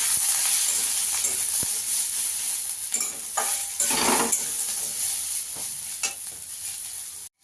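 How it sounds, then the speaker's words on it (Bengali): Whole cumin seeds frying in a pan, a loud close sizzle and hiss with several scraping stirs and small clicks of the spoon, cut off abruptly at the end. "গোটা জিরে দিয়ে একটু ভেজে নেব।"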